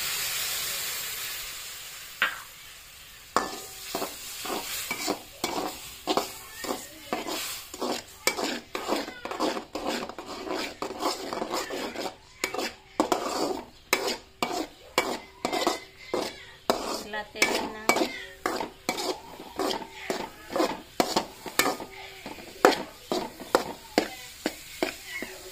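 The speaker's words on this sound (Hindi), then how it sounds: "अब हम उसमें दूध डाल देंगे।" Metal spoon scraping and clinking against a pan as milk is stirred into semolina halwa, a steady run of sharp clanks and scrapes over a soft sizzle, close and fairly loud.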